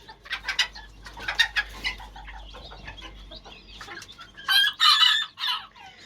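Chinese quail chicks hatched by a budgerigar chirp and peep in a cage, thin high calls scattered throughout, with a louder cluster of sharp cheeps near the end.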